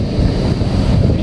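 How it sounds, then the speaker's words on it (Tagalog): Strong wind roars and buffets the microphone, a steady low rumble with gusty texture, with something like surf in the background. "Lakas ng hangin."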